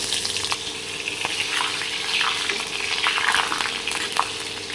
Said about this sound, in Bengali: এরপরে এই গরম তেলে একটু কালো জিরা আর চারটে মতো কাঁচা লঙ্কা দিয়ে দিলাম